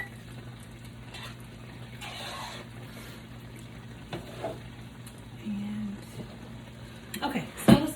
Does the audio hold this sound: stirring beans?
yes